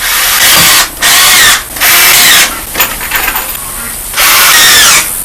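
A power drill drives screws into the wooden frame of a rabbit show cart, three loud, close bursts of whirring broken by short pauses and light handling clatter.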